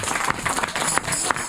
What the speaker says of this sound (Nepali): सबैजनालाई ताली बजाउनु होला है।